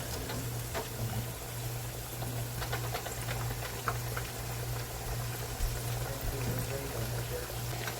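Slices of green plantain frying in hot oil for tostones, a soft, steady sizzle and bubbling that runs continuously under a low constant hum, with no voices.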